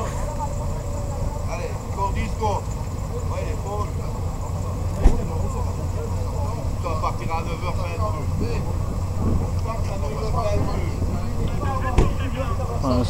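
A rally car idling at the start line of a sprint stage, a steady low engine rumble held close and constant for the whole stretch, with a commentator talking over it and a couple of sharp clicks.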